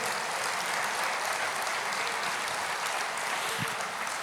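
A Portuguese-speaking church congregation breaks into sustained applause during a sermon, a dense even wash of clapping from many hands, loud and unbroken from start to finish.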